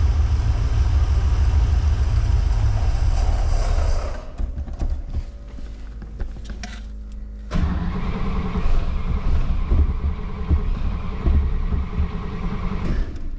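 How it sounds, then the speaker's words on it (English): A 1964 Oldsmobile 98 engine idles low and steady up close, its deep rumble dipping to a rougher, quieter patter for a few seconds before the full idle returns. "The idle's a heck of a lot lower now."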